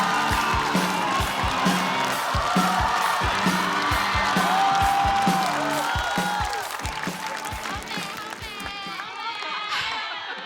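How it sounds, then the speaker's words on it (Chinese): At a stand-up comedy competition show, a studio audience claps and cheers as the next performer is welcomed, mixed under loud, rhythmic entrance music that thins out toward the end. "我们掌声有请七七"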